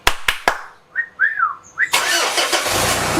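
A Pajero SUV engine starting without a key: a few sharp clicks and chirping electronic tones, then the engine catches into a loud, steady, broadband running roar close by.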